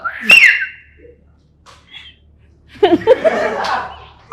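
A short, sharp whistle blast rings out near the start as a buzzer answer in a quiz game, followed by quiet, then bursts of laughter and chatter.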